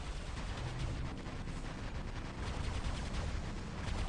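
Continuous rapid gunfire from the player in the Snipy Hawk robot sniper game, aimed at the Skyros, a dense unbroken barrage of shots held loud and steady throughout with no talking.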